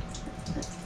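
Purified water pours into a bowl in a home kitchen, a short, close gurgling splash with no talking.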